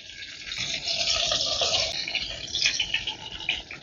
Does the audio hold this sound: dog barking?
no